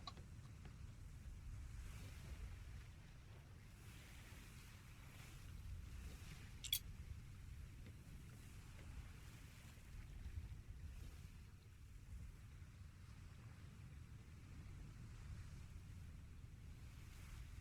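A sailing ship in the game ATLAS creeps slowly over ocean waves, a steady low rumble of water and wind with one brief sharp click partway through and no talking.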